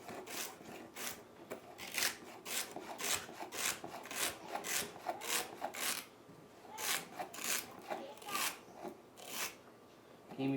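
A knife chops vegetables on a cutting board while chicken noodle soup is prepared. The strokes are steady, close and rhythmic, with scraping cuts repeating for several seconds.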